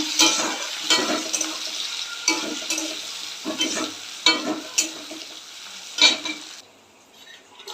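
Chopped onions, tomatoes and green chillies fry in oil with spices, a loud close sizzle with repeated scraping strokes of a spatula stirring the pan at a steady rhythm, fading softer at the end.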